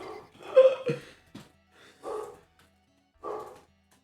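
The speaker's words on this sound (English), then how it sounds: "Em, what is she barking pretty at" A dog gives a few short, soft barks and yips spaced apart, close by in a quiet indoor room.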